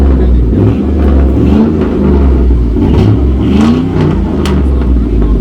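A loud, deep V8 truck engine rumbles and revs steadily throughout, its low growl rising and falling slightly, with faint voices underneath.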